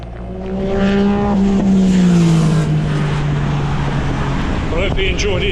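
A car speeds past on a road, engine tone rising and then sliding downward as it roars by close and loud before fading.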